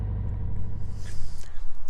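A Subaru Impreza engine idles during an idle relearn procedure, a low, steady rumble heard up close for a brief moment.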